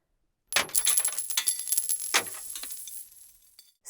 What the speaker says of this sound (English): he poured his many coins into the offering box, and it made a loud clang